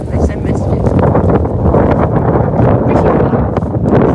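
Strong wind buffets the microphone outdoors in a loud, continuous rumbling roar with gusty surges, and voices are partly buried beneath it.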